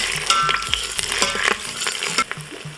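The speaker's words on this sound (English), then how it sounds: "Next, we are going to add in our tomato paste, which is about 4 tablespoons of tomato paste. Give it just a quick stir." A spoon stirs about four tablespoons of tomato paste in a hot pan for Haitian conch stew, giving a brief close-up rush of scraping and clatter over a steady sizzle, with no talking.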